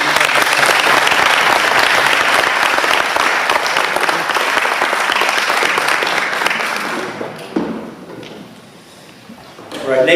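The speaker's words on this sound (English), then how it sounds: "Another round of applause" Loud, dense applause from a large audience at a civic meeting fills about seven seconds, then thins to a few scattered claps and low room murmur before a brief burst near the end.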